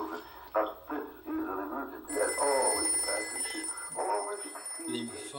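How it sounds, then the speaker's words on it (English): An old-style telephone bell rings in repeated bursts indoors, while people speak over and between the rings. "Frank, can you please answer the fucking phone?"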